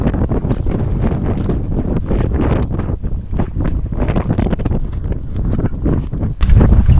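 Strong wind gusts buffet the microphone at an outdoor spot where people bike, a rough continuous roar with uneven surges and a heavier blast near the end.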